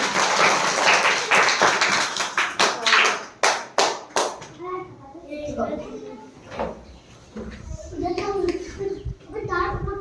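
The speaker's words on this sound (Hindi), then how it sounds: "इनके लिए तालियां बजाइए" Schoolchildren in a primary school classroom clap for their classmates, a burst of quick, loose hand claps for about four seconds that trails into a few sharp single claps, followed by a teacher and children talking.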